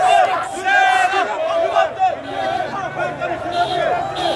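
Crowd of local people loudly jeering and shouting at former dignitaries in Guinea, a dense, continuous roar of many raised voices with rising cries.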